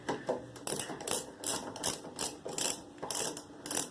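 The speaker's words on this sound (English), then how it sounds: "Why can't I just use a regular ratchet?" A ratchet clicks in quick repeated bursts while working on a Cub Cadet carburetor linkage, a close, crisp run of pawl ticks in roughly even strokes with brief pauses between them.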